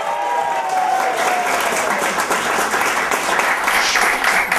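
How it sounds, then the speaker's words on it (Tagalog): An audience claps loudly and continuously, dense applause with a few cheers or whistles mixed in, holding steady for several seconds. "pero palakpak muna kayo"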